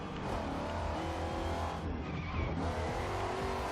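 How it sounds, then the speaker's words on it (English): Ford F150 SVT Raptor truck drifting in Forza Horizon 2, a loud, sustained tire squeal over a droning engine with no pauses or voices. "Now she's drifting."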